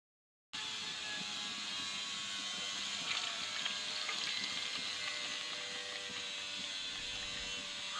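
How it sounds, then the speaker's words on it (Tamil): A steady, continuous stream of tamarind water pouring into fish curry, a broad even wash of sound running throughout with no voices. "இந்த புளி கரைசலையும் இதோட சேர்க்குறேன்"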